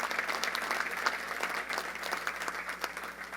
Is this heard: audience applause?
yes